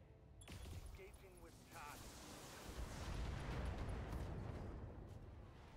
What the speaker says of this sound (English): Oof, all of these ammo explosions.